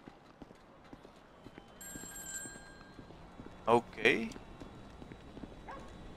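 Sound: phone ringing in the video game Grand Theft Auto 5

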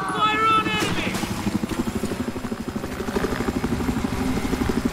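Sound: helicopter in the video game Battlefield 4

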